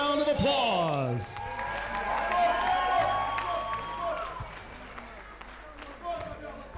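A boxing crowd at a combat event claps, cheers and whoops after a fight goes the full distance, while an announcer's amplified voice carries over the noise.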